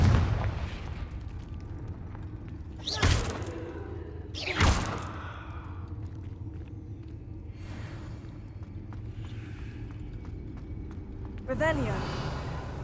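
Confringo fire spell explosions in Hogwarts Legacy, a video game: two sharp, loud booms a couple of seconds apart, then a softer burst later, over a steady bed of game ambience and low rumble.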